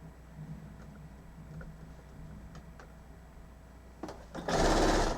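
A home sewing machine stitching quilt binding, its motor whirring steadily under faint intermittent ticks before surging into a loud, fast, close run near the end.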